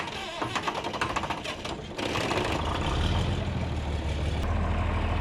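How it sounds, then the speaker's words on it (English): A John Deere 4230 tractor engine, dosed with ether on a cold day, cranks with a rapid rhythmic chatter and then catches, settling into a steady low diesel rumble, fairly quiet and without talk. "we're about to start up our 4230 John Deere"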